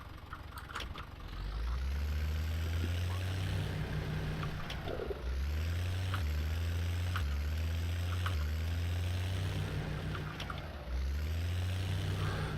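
Steady engine drone from a vehicle in a farming video game, holding a low idle with repeated rising revs and gear shifts throughout, loud and close with no talk.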